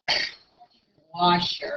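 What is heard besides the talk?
sneeze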